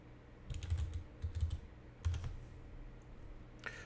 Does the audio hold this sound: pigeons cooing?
no